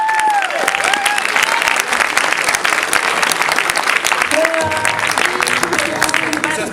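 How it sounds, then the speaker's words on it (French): Audience applause at the Crown Championship of Cosplay contest in Chicago, a dense, sustained wash of clapping that runs loud and steady throughout, with faint crowd noise and a few whistles mixed in. "ça mérite un tonnerre d'applaudissements."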